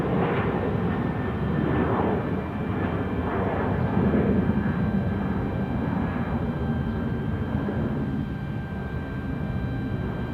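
A jet airliner departs Salt Lake City airport bound for Sacramento, its engines a steady, broad roar heard from a distance that holds for several seconds with no talk over it.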